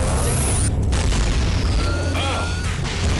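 A massive nuke explosion in the video game SiN: Wages of SiN, a loud, sustained booming roar with heavy low rumble filling the whole stretch, with a voice audible over it.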